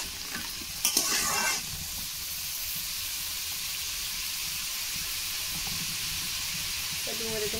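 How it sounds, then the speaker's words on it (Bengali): Figs and potato sautéing with salt in a pan, a continuous soft sizzle with a brief burst of clattering stirring near the start and a light scrape near the end, no one speaking. "লবণ দেবো, একটু কষিয়ে নেবো ডুমুরটা"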